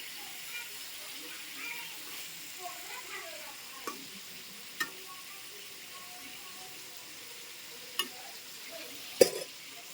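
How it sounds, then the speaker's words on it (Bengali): Pointed gourd frying in a pan under a lifted lid gives a faint, soft sizzle, with a few light spatula taps as it is stirred at scattered moments. "এবার ঢাকনাটা উঠিয়ে নেড়ে চেড়ে দেব।"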